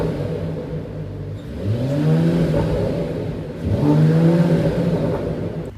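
A 2021 Mercedes E53 Convertible engine in Sport Plus mode revs loudly and close by in two rising pulls, each climbing in pitch to the rev limiter and then settling back to a steady rumble.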